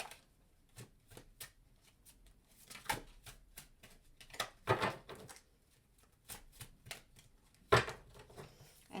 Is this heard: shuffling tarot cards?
yes